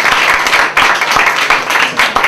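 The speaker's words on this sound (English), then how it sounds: "let's hear some loud applause" Loud applause from a comedy club audience, dense and close, with individual claps standing out and the clapping swelling and easing in waves.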